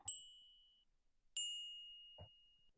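Two bell tones generated from astronomical data, each struck cleanly and left to ring, the second sustaining longer; a short low knock follows near the end.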